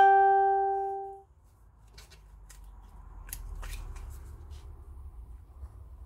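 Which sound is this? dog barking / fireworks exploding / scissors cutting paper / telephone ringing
scissors cutting paper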